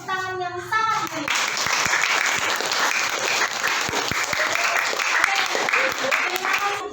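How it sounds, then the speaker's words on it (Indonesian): A classroom of students breaks into loud, sustained applause, a dense even clatter of many hands that continues to the end after a brief spoken line at the start. "Sekarang kita berikan tepuk tangan yang sangat baik."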